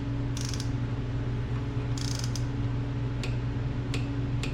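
A torque wrench ratchets and clicks while tightening the final drive bolt on a 2008 Honda VTX 1300 motorcycle. Several short ratcheting bursts are followed by a few crisp single clicks over a steady background hum, up close and without speech.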